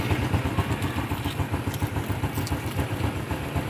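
A Honda Wave 110 motorcycle engine idles steadily with a low, rhythmic pulsing chug, close by and continuous throughout, with no talking.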